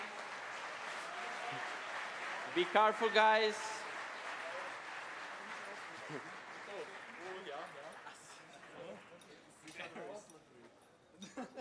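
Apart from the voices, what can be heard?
audience applause at award ceremony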